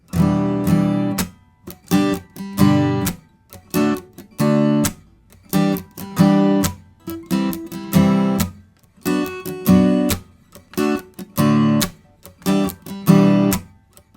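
An acoustic guitar is strummed close up in a repeating rhythmic pattern of short bursts and brief gaps, played alone without talk.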